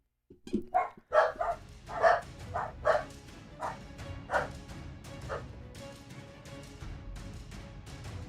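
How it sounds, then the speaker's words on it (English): Several dogs bark and yip in a rapid, overlapping burst with growling undertones, loud at first and then easing into a lower, busier murmur of barking. "sounds like the dogs are barking"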